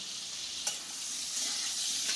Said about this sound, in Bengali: আলু আর ডিম একসাথে ভাজা হবে